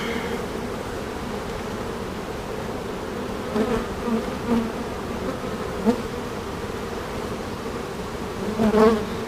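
Dense, steady hum of many honeybees inside an enclosed hive box, with louder buzzing bursts as some fly close.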